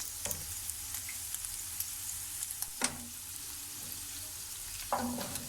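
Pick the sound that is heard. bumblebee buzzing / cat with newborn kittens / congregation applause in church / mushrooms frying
mushrooms frying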